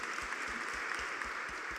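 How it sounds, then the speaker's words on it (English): A conference audience gives speakers a round of applause, with moderate, continuous clapping from many hands filling the room at a steady level. "please join me in a round of applause to thank them"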